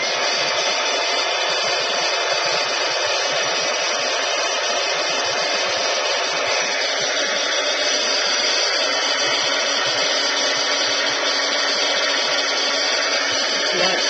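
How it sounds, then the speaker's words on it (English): A heat embossing tool blows hot air over gold embossing powder on a craft piece, a steady close whirring hum with an airy hiss that runs unbroken the whole time, with no talk. "And then I'm going to take my heat tool."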